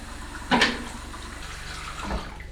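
Tap water runs in a steady hiss while black and white film is washed during developing, with a couple of brief clunks from handling equipment nearby.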